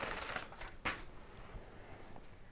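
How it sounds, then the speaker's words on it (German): Pages of an old 1970s electronics magazine being leafed through, giving soft papery rustles and one sharper flip near the middle, quiet and close with no talking. "Ich greife jetzt mal einfach die oberste. Blättere jetzt einfach mal rein."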